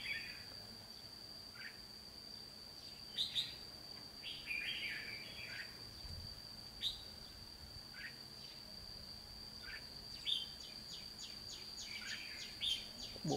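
Outdoors, a wild red-whiskered bulbul with a stubby, missing tail gives short, faint chirping phrases at scattered intervals over a steady insect drone.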